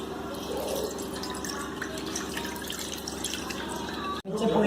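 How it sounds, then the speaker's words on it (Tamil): Tamarind water for sambar is poured through a filter, giving a continuous trickling, dripping liquid sound at close range with a sharp clatter near the end. "இப்போ வந்துட்டு நம்ம இந்த புளி தண்ணியை ஃபில்டர் பண்ணி விட்டுட்டு"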